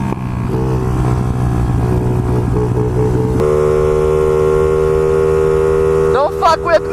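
A street legal 50cc pit bike engine runs steadily with a buzzing, harmonic drone. The pitch steps up partway through, then the revs climb sharply near the end.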